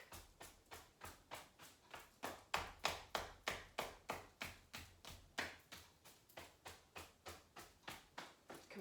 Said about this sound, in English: fists, knocking on the sides of the hips